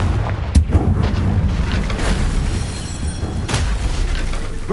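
A Confringo blasting spell exploding in the video game Hogwarts Legacy on PS5, a loud booming blast with sharp cracking bursts layered over dense rumbling game noise, heavy and continuous throughout.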